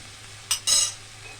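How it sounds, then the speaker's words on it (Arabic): A spoon scrapes through shrimp with cumin, chili and thyme in a hot pan, giving two short, bright stirring swishes over a low steady sizzle. "نقلب بقى المكونات كلها في بعضها كده"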